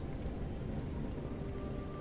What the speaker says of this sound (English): It comes in waves, with the sounds of the storm.